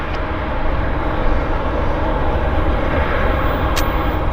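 A United airliner at Vancouver airport gives a steady, loud jet engine roar, constant and broadband for the whole stretch with no talk over it.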